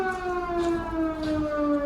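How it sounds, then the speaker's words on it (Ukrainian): An air raid siren wails over Poltava, Ukraine, a steady sustained tone held at a fairly even pitch with a slight downward drift, heard alone without voices. "Повітряна тривога."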